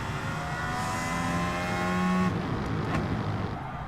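An Aston Martin Valkyrie in Gran Turismo 7 accelerates hard, its high-revving engine holding a steady, loud whine that climbs in pitch, then dips briefly at a gear change before pulling on.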